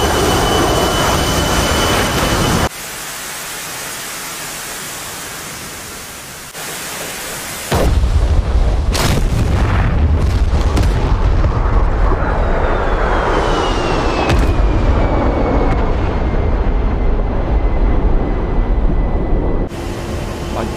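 An A-10 Warthog strafes a town in a video game: a loud, roaring jet-engine wash broken by abrupt cuts, then a harsh, dense blast of noise. A falling whine trails through the later part.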